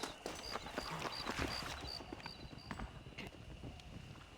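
Horse hooves clip-clop steadily on a town street in the Western video game Red Dead Redemption, light repeated knocks mixed with ambient game sound and someone talking over them.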